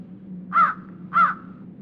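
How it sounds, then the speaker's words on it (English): A crow caws twice, loud and harsh, evenly spaced over a low steady background hum. "How bad is that crow cawing?"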